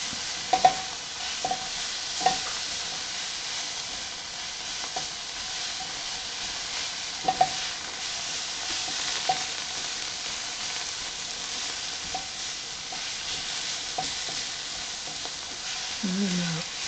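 Ingredients for Philly cheesesteak sandwiches stirred in a frying pan: a constant soft sizzle with intermittent utensil scrapes and taps against the pan, close by and unaccompanied by speech.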